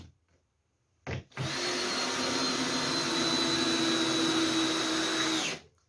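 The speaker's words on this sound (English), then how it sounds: "Prime your screw holes with 60mm stainless steel Torx drive screws and drive them in." Power drill driving 60mm stainless steel Torx screws into a 2ft quarterpipe skate ramp, a short burst followed by a long steady whine of about four seconds, loud and close with no talk.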